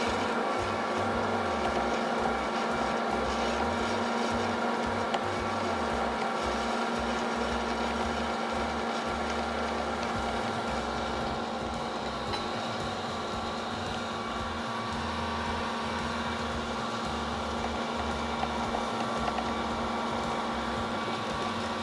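An Ankarsrum stand mixer creams butter and brown sugar with a steady, continuous whirring hum and a rhythmic low churning throughout, fairly loud with no voices.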